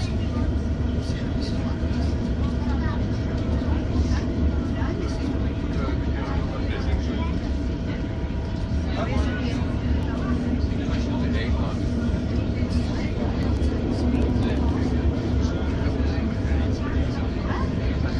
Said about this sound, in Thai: รถไฟวิ่งเร็วขึ้นแล้วค่ะ